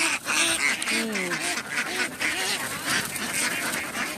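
Young female ducks raised for sale quack repeatedly in a dense, overlapping chorus, a loud flock close by with some human voices mixed in.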